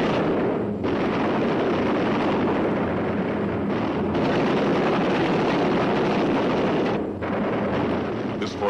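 Anti-aircraft flak bursts around a World War II B-17 Flying Fortress bomber in a dramatized raid, heard as a loud, dense roar of blasts and engine drone with brief dips between barrages.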